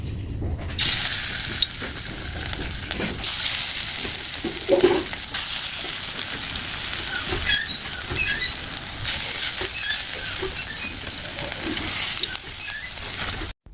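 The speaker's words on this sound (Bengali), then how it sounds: "এখন বড়াগুলো এক এক করে ভেজে নেবো" Lentil fritters (bora) fry one by one in hot oil in a pan, giving a steady, close sizzle and crackle that runs throughout with occasional sharper pops.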